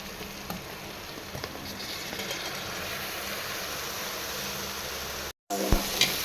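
Food sautés in a pan in a home kitchen with a continuous close sizzle and hiss, a brief dropout, then a few clattering stirs near the end, with no voices.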